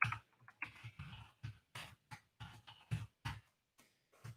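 Someone types in Unity on a computer keyboard, producing quiet, irregular bursts of keystroke clicks with short pauses between them.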